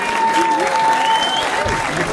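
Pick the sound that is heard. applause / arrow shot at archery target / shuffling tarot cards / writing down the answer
applause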